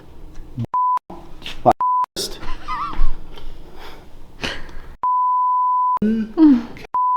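Talking is repeatedly cut by flat, steady censor beeps, several of them, each lasting a fraction of a second to about a second.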